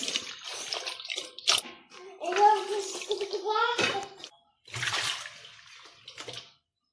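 Cassava pieces are rinsed in water two or three times for a Kerala-style puzhukku, with splashing and sloshing bursts in a basin, close and moderately loud, broken by short pauses; no one talks.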